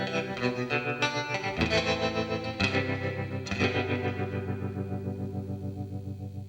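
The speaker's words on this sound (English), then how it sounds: "Should be a nice clean tremolo." Electric guitar chords through an Electro-Harmonix Holy Stain pedal's clean tremolo ringing out with a pulsing, wavering tremolo, a few strums left to sustain and fade, loud and close.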